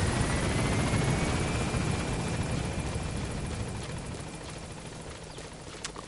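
A helicopter in a video game drones with a continuous rotor and engine roar, steady and close, slowly fading a little over several seconds with no talk over it.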